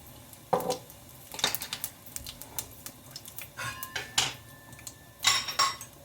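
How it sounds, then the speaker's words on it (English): Cumin seeds go into a cooking pan while making baigan ka bharta, heard as scattered light clinks, taps and crackly rattles of metal cookware at close range, uneven and sporadic, with no voices. "I'm going to add half teaspoon cumin seed."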